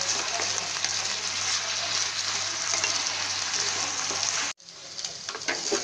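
Mixed vegetables for Odia sabji chadchadi fry in a pan with a steady, loud broadband sizzle for over four seconds, then a brief cut and a quieter sizzle with faint stirring.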